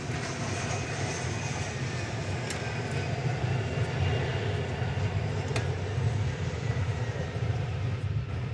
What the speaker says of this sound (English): This one's arriving from Stillwater, Oklahoma. It's a CRJ